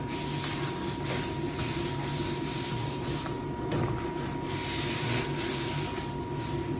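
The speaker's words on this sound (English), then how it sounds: "just sand those down a little more aggressively" Hand sanding of polyurethane finish on an 1884 historic wooden door with 400-grit paper: steady, close scratchy rubbing strokes in continuous rhythmic passes, heard alone without talk.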